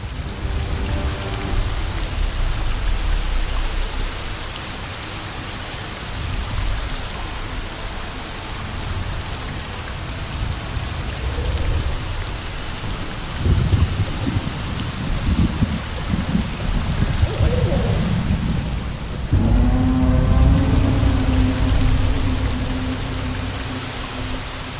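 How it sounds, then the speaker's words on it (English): Steady heavy rain pours in the video game Skyforge, a dense continuous hiss throughout, with low rumbles of thunder rolling in toward the end; no talk over it. "It rains, it pours."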